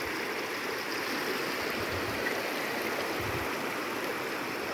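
A backcountry river near a meadow campsite flows with a steady, full rush of water, continuous and fairly close, with no voices over it.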